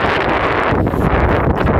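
Strong sea wind buffets the microphone on a summer seaside outing in Japan, a loud continuous roar with gusty rumble and no break.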